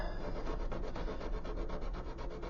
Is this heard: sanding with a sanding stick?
yes